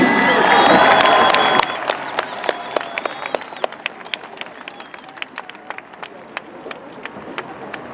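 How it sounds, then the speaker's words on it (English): A high school graduation audience applauds the class of 2015 valedictorians with dense clapping and cheering that stops abruptly after about a second and a half, leaving scattered individual claps that thin out over the following seconds. "Big round of applause for all 12 of our valedictorians and their very inspiring messages for us all"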